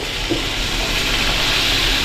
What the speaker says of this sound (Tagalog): Lagyan na po natin ng tubig.